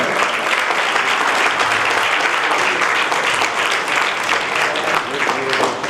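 Audience applause fills a stage award felicitation ceremony, a loud, steady wash of dense clapping that holds evenly throughout.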